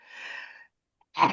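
A single person sneezes in a class setting: a breathy inhale lasting about half a second, a brief pause, then a short, sharp sneeze burst, close and loud.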